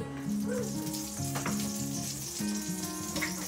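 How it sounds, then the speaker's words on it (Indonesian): Blended spices sauté with chicken and potatoes in a pan, giving a continuous close sizzle and crackle, with faint steady tones in the background. "Baru kita tumislah dulu."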